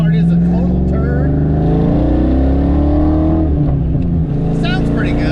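A car engine drones and climbs in pitch while driving with the windows down, a loud continuous rumble heard from inside the cabin, with people talking faintly underneath.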